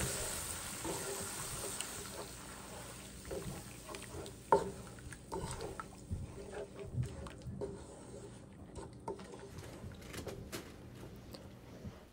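Spice paste fries in a pan with a splash of water, a soft continuous sizzle broken by scattered clinks and scrapes of stirring, close and quiet.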